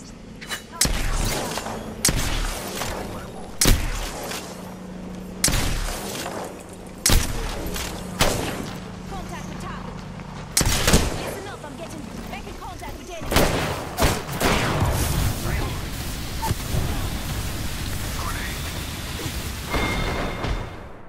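Repeated gunshots crack out in a sniper video game, sharp loud bursts spaced irregularly with heavy thuds, aimed at the player over steady game ambience; a voice speaks briefly between shots.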